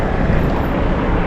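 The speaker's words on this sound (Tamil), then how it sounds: "நம்ம ஹெலிகாப்டர் ஒன்று போகுது பாருங்கள்" A helicopter passes overhead near a hospital in Riyadh, a loud, steady broadband engine and rotor roar that fills the whole moment with no voices.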